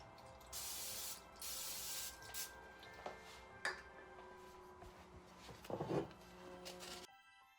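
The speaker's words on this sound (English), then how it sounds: "spray my spatula so it doesn't stick as much" Several short hissing bursts of cooking spray onto a spatula, close by, separated by pauses, followed by faint kitchen clatter.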